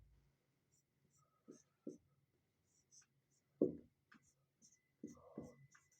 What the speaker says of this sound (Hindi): हेडिंग लिख लेंगे